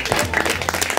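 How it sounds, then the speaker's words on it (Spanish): Studio audience applause on a Spanish television variety show, a brief dense burst of close clapping from many hands, loud and continuous. "Aplaudan fuertemente si ustedes lo ven conveniente"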